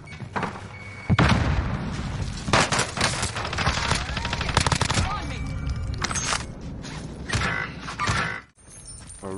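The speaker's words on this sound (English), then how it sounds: "I'm taking fire!" Rapid gunfire crackles in bursts through a multiplayer shooter video game, loud and close with metallic clatter between volleys, while a player speaks over it.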